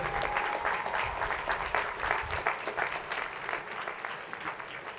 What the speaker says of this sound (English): Let's give them another round of applause while they exit the stage.